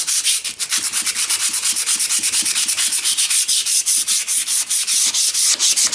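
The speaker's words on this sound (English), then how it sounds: "I'm going to give her another sand in here just to get it a little bit cleaner. We're into a 80 grit now." Rapid, rhythmic rasping of 80 grit sandpaper worked back and forth on a driveshaft, loud and close, with even strokes repeating about five times a second and no talking.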